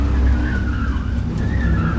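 A car driving close behind on the road, heard as a loud, steady engine and tyre rumble with a wavering whine rising and falling, close by and with no talk over it.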